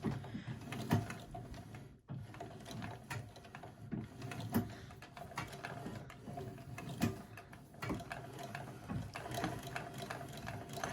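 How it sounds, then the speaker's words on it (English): Foot-treadle sewing machine running, a fast mechanical ticking and whirring with a steady rhythm that briefly stops and restarts, close and fairly quiet. "when I work the foot treadle, we are also going to get this"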